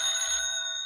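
An office telephone rings in a short, bright electronic trill that holds steady, a close radio-drama sound effect with no voices.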